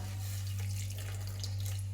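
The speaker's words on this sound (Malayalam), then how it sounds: "അതുകൊണ്ട് കുറച്ചും വെള്ളം ചേർത്തു" Water is poured into a pan of dried mullan fish stir-fry, giving a brief, steady splashing stream over a low constant hum, with no speech.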